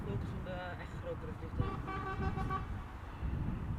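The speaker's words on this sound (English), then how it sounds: "Truck driving around the corner, honking." A truck at Schiphol Airport sounds its horn while turning a corner, a series of short harmonic toots over roadway rumble and background talk.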